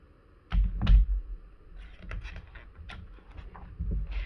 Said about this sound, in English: One morning there was a knock at the door.